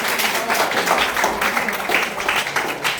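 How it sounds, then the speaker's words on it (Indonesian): A classroom of students claps together, dense continuous applause that stays loud and even for the whole stretch, heard close. "Oke, tepuk tangan."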